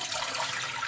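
Water pours steadily into a wok in a short, soft rushing stream, faint and continuous with no voices.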